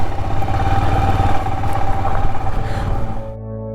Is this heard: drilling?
no